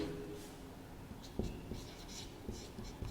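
Chalk or marker taps and scratches on a board during a maths lesson on relations and functions, faint and intermittent strokes over quiet room noise.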